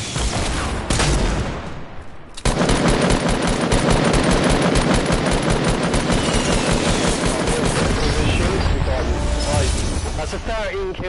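Rapid, sustained automatic gunfire in Fortnite, dense and loud after an opening burst and a brief pause, with people talking over it.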